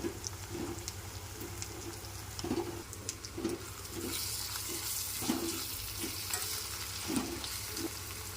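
Okra frying with chili powder in a pan for a tamarind stew gives a constant hiss, while regular stirring scrapes repeat through it at close range.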